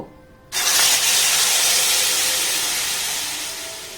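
Blended paneer mixture hits a hot kadai with no ghee or oil, bursting into a loud, sudden hiss of steam that holds strong and then slowly fades.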